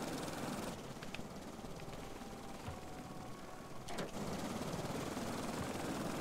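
A toy gyrocopter helicopter flies with a faint, steady whirring buzz, broken by a few brief clicks.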